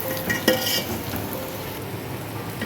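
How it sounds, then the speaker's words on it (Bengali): Rice grains with slit green chillies stirred in a hot pan for white pulao, giving a steady close sizzle and frying hiss with a brief clink of a spoon against the pan near the start. "এ দেখো চালগুলো ভাজা ভাজা হয়ে গেছে"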